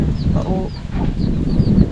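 Chickens cluck in a garden setting, a few short close calls over a busy background with faint voices nearby.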